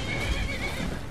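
Horse neighing in the video game Skyrim, a single whinny with steady tonal harmonics held for about a second, moderately loud against a busy game soundscape.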